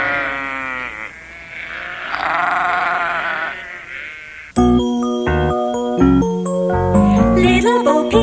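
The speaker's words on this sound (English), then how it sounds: "the sheep are all over the place" Sheep bleating loosely in a children's Mother Goose song setting, a few drawn-out wavering bleats up front, followed by bright tuneful music that takes over for the second half.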